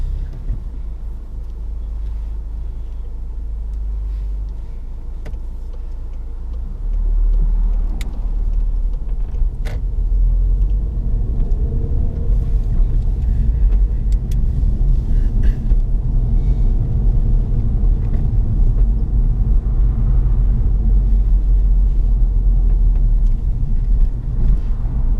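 Car driving during a mock driving test in Derby, UK: a low engine rumble that swells after a quiet idle as the car pulls away, then a steady road hum with occasional faint clicks.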